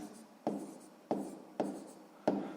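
Handwriting during a sixth-grade maths lesson: four evenly spaced pen or chalk strokes, each a short scratch fading off, close and fairly quiet with no talk.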